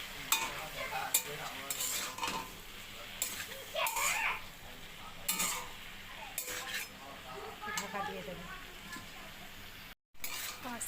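Fish curry with bottle gourd greens being stirred in a pot, a steady scraping and clinking of a spoon against metal over a low sizzle, fairly close, with a voice speaking faintly in the background.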